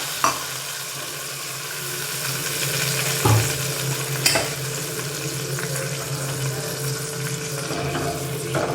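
Spicy red chilli and garlic chutney stirred in an oily pan, giving a steady close sizzle with a few scraping clacks of the spoon against the pan, no voices.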